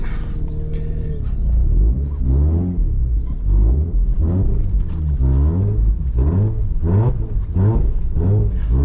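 A car with seized brakes strains in reverse, its engine revving loud and continuous with rising and falling pitch as it rocks back and forth.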